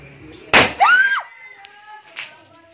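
A sudden loud burst as a container of fermenting rice explodes from gas pressure, followed by a short crackling, whistling squeal and a few faint pops trailing off.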